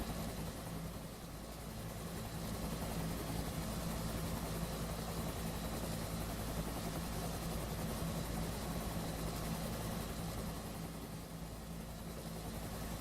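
Continuous helicopter engine and rotor drone in a video game, steady and fairly loud throughout with no talking, as a helo crew is called in for troop extraction.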